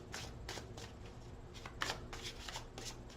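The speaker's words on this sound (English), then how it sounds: "One more shuffle." Tarot cards are shuffled in quick repeated riffles, a soft rhythmic flutter of paper close by, with no voices.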